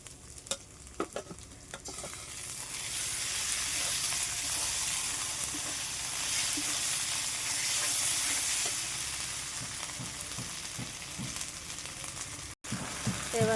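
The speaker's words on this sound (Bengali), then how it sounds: "রসুনটা আমার ভাজা হয়ে গেছে, এবারে আদা, জিরে, মরিচ একসাথে দিয়ে দেবো।" Garlic, ginger, cumin and chili fry in an oiled pan while preparing chicken, a steady loud sizzle and hiss running throughout with occasional stirring scrapes, near and alone without talk.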